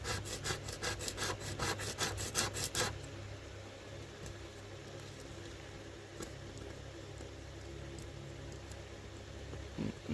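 A nitre bush seed coat is scratched to help germination, about a dozen quick rhythmic rasping strokes over three seconds, then a faint quiet hiss.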